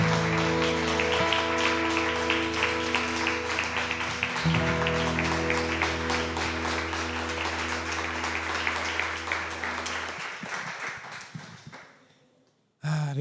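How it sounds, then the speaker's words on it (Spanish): A church congregation gives sustained, loud applause in a worship service. The dense clapping holds steady for about ten seconds, then thins out and fades to quiet. "Dale un fuerte aplauso al Señor"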